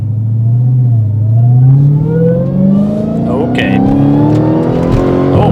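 A 2022 Dodge Challenger Super Stock accelerates hard from close by, its engine roaring loud with pitch climbing steadily through the revs; a person briefly says a word over it.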